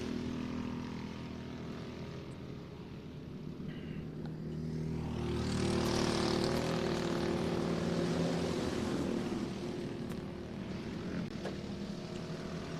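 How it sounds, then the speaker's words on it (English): A camera drone flies over an off-road short course race, a droning propeller whine that swells louder midway as it passes close, then eases back, with a steady rumble underneath. "Boy, how about that drone?"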